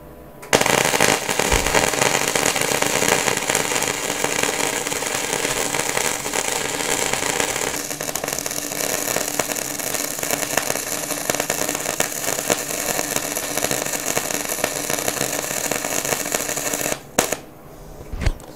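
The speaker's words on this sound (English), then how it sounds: "let's do a bead with Flux Core wire" A flux core MIG welder lays a bead, giving a loud, steady crackling sizzle that runs unbroken for about seventeen seconds before cutting off, with a few short pops at the end.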